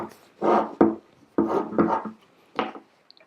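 Metal tip of a pair of scissors rubbed against fabric to mark it while sewing a geometric motif: several short, close rasping strokes in uneven bursts separated by brief pauses, with no talking.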